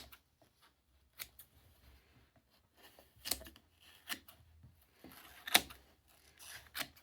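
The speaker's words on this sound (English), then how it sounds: "Just go through here and cut all this hair." Scissors snip hair tangled around a vacuum cleaner brush roll. The cuts come as sharp, close, irregular clicks and rasps, spread across several seconds with quiet gaps between them. No one talks.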